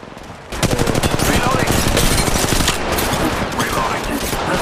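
Rapid automatic gunfire rattles in the mobile shooter game Apex Legends Mobile, a loud, continuous burst of closely spaced shots that starts abruptly and runs without pause to the end.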